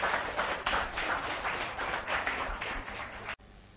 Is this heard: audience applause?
yes